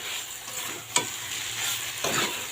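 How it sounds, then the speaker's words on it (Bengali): A taro stolon curry, kochur loti with spices, is stir-fried in a pan, giving a soft continuous sizzle with two sharp scraping stirs. "সমস্তটাই এখন ভালো করে একটু কষিয়ে ভাজা ভাজা করে নিয়ে"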